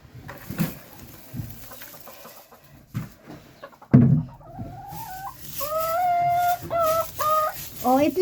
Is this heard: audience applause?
no